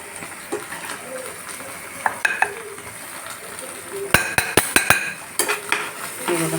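Hakka noodles tossed with sauces in a frying pan give a soft sizzle under repeated metallic scrapes and clinks of a utensil against the pan, with a quick burst of sharp taps near the end, close up and without speech.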